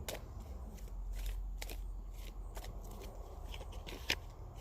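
A Thoth tarot deck is shuffled by hand, giving soft repeated riffling bursts in a loose rhythm. The sound is close but quiet, over a low background hum.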